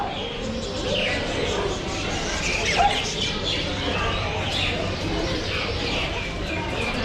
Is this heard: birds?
yes